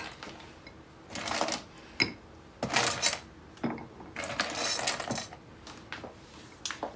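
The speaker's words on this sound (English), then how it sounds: "And then we are going to add some ice." Ice cubes clatter and clink into a glass in several quick bursts, fairly close and fairly quiet, with no talking.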